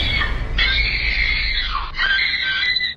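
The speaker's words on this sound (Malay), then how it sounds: "beliau terus menjerit" A girl's high, sustained scream of fear serves as a sound effect in a horror story, loud and close, rising and wavering in two long drawn-out bursts before cutting off.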